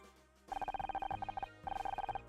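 A phone rings in the video game Murder By Numbers, two clear bursts of rapid electronic trilling, bright and steady, with a short gap between them.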